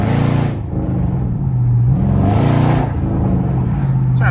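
A Chrysler 300 Hemi with all-wheel drive downshifts in a tunnel, its engine revs rising and falling in loud, echoing blips close by, with a steady low drone underneath.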